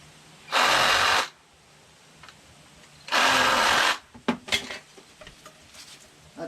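SnapFresh 20V cordless reciprocating saw cutting through a rubber hose: two loud bursts of harsh, buzzing cutting, each lasting under a second, followed by softer clatter and handling noises.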